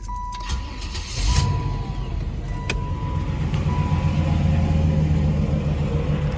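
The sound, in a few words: car engine running before being turned off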